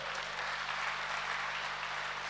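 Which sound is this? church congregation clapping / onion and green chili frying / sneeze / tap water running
church congregation clapping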